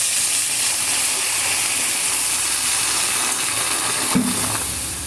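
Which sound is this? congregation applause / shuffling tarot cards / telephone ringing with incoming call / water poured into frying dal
water poured into frying dal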